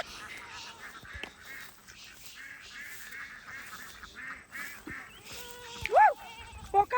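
Free-range ducks on a livestock and poultry farm in Pickering keep up a chatter of scattered nasal quacks, mostly soft and mid-distance, with a couple of sharper, louder calls near the end.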